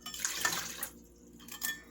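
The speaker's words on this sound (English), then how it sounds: "1 cup water is going in." A cup of water is poured into a pot of homemade tomato soup, a close, splashy rush of liquid that breaks off briefly and then resumes in a shorter burst.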